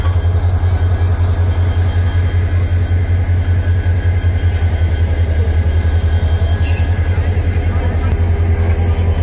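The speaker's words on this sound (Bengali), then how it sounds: "এখন এখানে ইঞ্জিন লাগানো কাজ চলতেছে।" Diesel locomotive of the Meghna Express idles in a steady low, loud rumble while being coupled to the train at a station, with a crowd of onlookers and faint talk beneath the engine drone.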